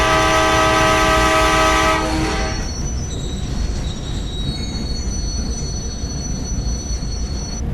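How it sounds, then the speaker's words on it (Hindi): A train in the Indian Bike Driving 3D video game sounds a loud, sustained horn blast, then settles into a steady rumbling and rolling noise as it slows to a stop. "क्यों रोक रहे हो भाई ट्रेन को?"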